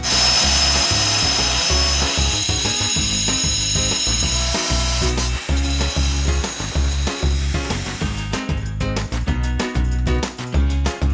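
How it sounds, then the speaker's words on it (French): An angle grinder cuts ceramic wall tile in a bathroom, a loud, close, steady grinding roar with a rough, pulsing texture that shifts and grows harsher toward the end, with no talking. "pour réaliser ce genre de coupe, on va utiliser une meuleuse"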